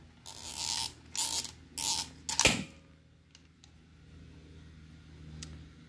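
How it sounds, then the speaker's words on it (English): A vacuum hose is pulled off a Ford 1.6L EcoBoost engine, giving several short rasping scrapes followed by a sharp snap as it comes free, close and otherwise quiet. "So remove the vacuum hose."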